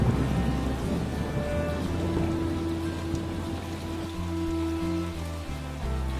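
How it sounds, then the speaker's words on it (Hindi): Heavy rain falling steadily in an animated story about a farm field, a dense continuous patter with a low background rumble, heard alone without talk. "राजू बारिश में भीगते हुए खेत की ओर चला जाता है।"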